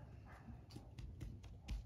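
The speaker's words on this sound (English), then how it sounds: "It's probably over there where all those dogs are barking." Several dogs barking at a distance on a Halloween evening, with irregular muffled barks and yips spread through a low rumbling outdoor background.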